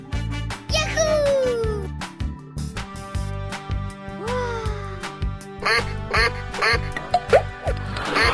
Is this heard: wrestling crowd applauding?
no